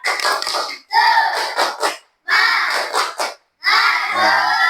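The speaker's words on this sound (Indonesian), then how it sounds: "Ya, beri semangat untuk kelompok A. Tepuk semangat." A group of students in a classroom performs a rhythmic spirit clap, sharp unison bursts of clapping and chanting broken by brief silences, loud and close, repeated in several patterned phrases.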